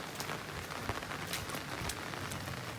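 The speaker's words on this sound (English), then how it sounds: "That's a lot of rain falling and the heavy stuff hasn't even hit yet." Steady heavy rain pattering densely on a surface nearby, an even continuous hiss with no voices.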